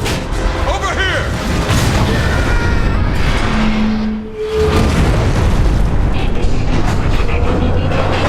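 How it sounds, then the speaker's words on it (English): A spaceship's reactor core detonates in the Transformers: War for Cybertron video game, a loud, sustained booming roar layered with electronic tones and game voices that briefly drops away, then surges back. "Lord Megatron, the ship's reactor core is failing. Explosion imminent. The core's about to detonate."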